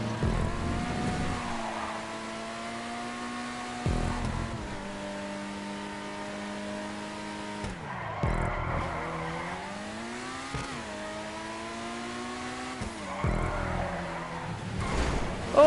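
Race car laps in GTA Online: a loud, steady engine drone rising and falling through gear shifts and revs, with brief dips and tire noise as the car corners, continuous with no talk.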